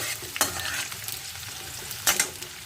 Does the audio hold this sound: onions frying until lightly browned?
yes